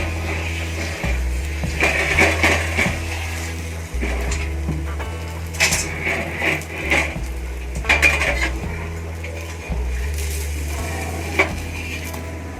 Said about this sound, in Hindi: थोड़ा थोड़ा सा तवा घुमाते हुए चारों साइड से अच्छे से सेक लेना है।